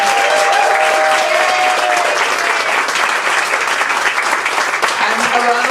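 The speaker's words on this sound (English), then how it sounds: "So another round of applause for Ruth." A crowd at the 2022 Melbourne International Comedy Festival awards gives loud, continuous applause, with scattered cheers and whoops rising above the dense clapping.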